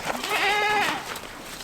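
A goat gives one loud, close, wavering bleat lasting under a second, with a soft farmyard background and no talking over it.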